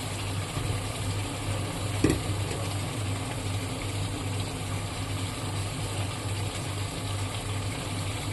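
Spices being stirred into mutton and drumstick curry frying in a pan: a steady, soft sizzle with faint scraping of the stirring spoon, one brief louder clink partway through.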